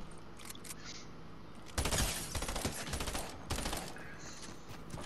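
Rapid bursts of SMG fire in a first-person shooter video game, a dense rattling volley starting partway in and continuing in loud bursts with short gaps, no talk over it.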